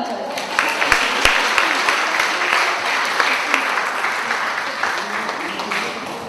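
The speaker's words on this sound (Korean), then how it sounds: "사랑과 격려의 박수 한번 쳐주세요." An indoor audience at a family-movement event gives sustained warm applause, dense steady clapping with sharp individual claps standing out, continuing evenly across the whole stretch.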